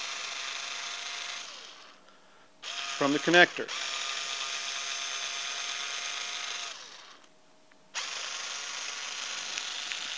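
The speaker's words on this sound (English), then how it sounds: "you use your little handy power drill to go ahead and remove" A power drill whirs in steady stretches while removing screws, pausing twice, with a brief burst of clicking ratchet sounds early on and a few words spoken.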